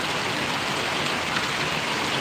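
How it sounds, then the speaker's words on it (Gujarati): Rain falls without pause over Paravadi village, Gariyadhar taluka, making a continuous full wash of drops on surfaces, uniform and moderately loud. "સરસ મજાનો વરસાદ અત્યારે પરોળી ગામને આંગણે પડી રહ્યો છે મિત્રો"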